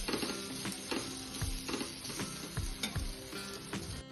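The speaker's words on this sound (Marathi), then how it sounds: "मी यामध्ये आता हे शेंगदाण्याचं बारीक कूट टाकून घेतले आणि मिनिटभर अजून परतायचंय" Bitter gourd with crushed peanuts is stir-fried in a pan, producing a faint, steady sizzle with soft, irregular scraping and tapping of a spatula against the pan.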